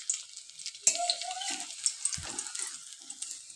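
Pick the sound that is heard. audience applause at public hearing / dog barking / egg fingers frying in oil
egg fingers frying in oil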